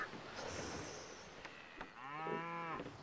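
Cattle mooing beside a pasture in the strategy game Civilization V, one long drawn-out low moo rising and fading near the end, heard alone over a soft ambient background.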